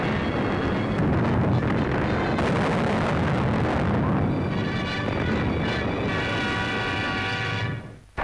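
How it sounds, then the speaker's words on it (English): Japanese aircraft bombs and naval shells strike Kyukyang in a combined attack on the Yangtze, a dense continuous roar of blasts and engine rumble filling the whole recording before cutting off abruptly at the end. "Japanese planes add their bombs to the naval shells in this combined attack on Kyukyang"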